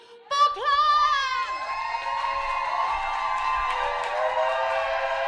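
A live concert crowd at Smoking Kills erupts in loud whoops, cheers and shouts right after the band is introduced, with the roar holding steady as scattered clapping mixes in.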